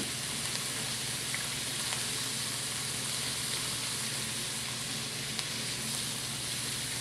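Salt, pepper and curry powder sizzling steadily in a hot pan as they are stirred, a continuous close frying hiss with faint scraping, no talking.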